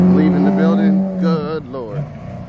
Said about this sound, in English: Aventador leaving the building.